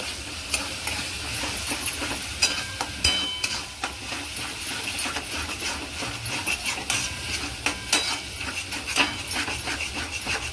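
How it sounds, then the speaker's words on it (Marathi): Homemade masala being stir-fried in oil in a pan, with a steady sizzle and repeated scraping and clinking of a spoon against metal, fairly close and continuous, with no talking. "आता तेल सुटेपर्यंत याला असं मस्त आपण परतत राहायचंय म्हणजे मसाला चांगला भाजला जाईल"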